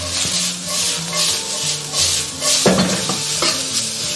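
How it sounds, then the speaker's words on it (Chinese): Tea tree mushrooms stir-fried dry in a wok, with a steady close sizzle and repeated scraping stirs of a spatula against the metal, including a few sharper clanks near the end. "我们下入茶树菇，稍微把它水分煸干。"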